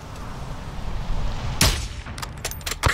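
A sniper rifle shot in Call of Duty Modern Warfare II, a sharp loud crack with a ringing tail during a ghillie-suit mission, followed by a few quicker impacts over low ambient rumble.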